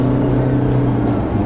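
A 2016 Jaguar XF in sport mode gives a loud, steady engine drone from inside the cabin as the driver accelerates, a low sustained hum with a slight rising tone over a second and a half.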